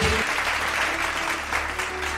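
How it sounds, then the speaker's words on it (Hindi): Enthusiastic audience applause welcoming a guest onto the stage at a public event, steady dense clapping from a crowd throughout, moderately loud. "जोरदार तालियों के साथ उनका स्वागत कीजिए"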